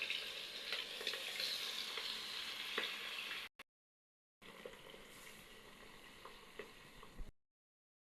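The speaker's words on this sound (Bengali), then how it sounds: "এগুলো এবার আমি ভেজে নেব।" Fish coated with salt, turmeric and chili powder fry in hot oil with a faint, steady sizzle. It cuts out briefly, then carries on more softly.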